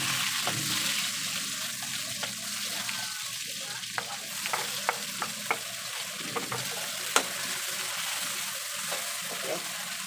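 Corned beef sautéing in a hot pan, with a steady close sizzle and scattered sharp clicks and scrapes of stirring throughout.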